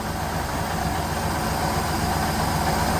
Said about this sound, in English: it's not running too bad for an engine that hasn't run in 30 years